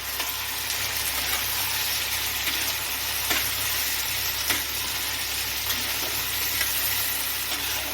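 Capsicum, red and yellow bell peppers and slit green chillies sizzle steadily in a hot frying pan as they are stirred, a close, continuous hiss with occasional soft scrapes of the spoon.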